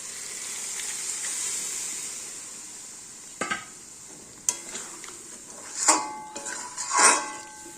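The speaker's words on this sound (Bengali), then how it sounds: "এবার পনিরগুলো দিয়ে দেবো, জল সমেত পনিরগুলো দিয়ে দেবো।" Paneer pieces tipped with their water into a hot cooking pan for aloo paneer, giving a soft steady sizzle broken by a few sharp clatters and splashy bursts of frying near the end, close by with no talking.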